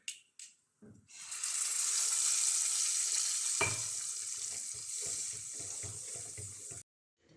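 Fish curry masala paste is poured into a pan of hot oil with popped mustard seeds, and a sudden loud hiss rises and settles into a steady sizzle before cutting off.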